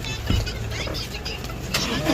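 A car rolls forward at a crowded voting event, its engine giving a low steady rumble close by, with a brief thump near the start, under a busy background of talking people.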